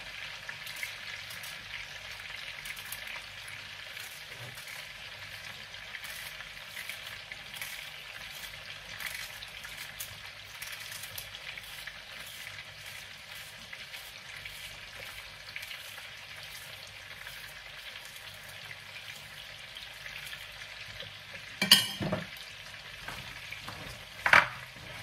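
Bell pepper and onion frying in a pan give a steady, fairly quiet sizzle throughout, with a couple of sharper clatters of stirring near the end.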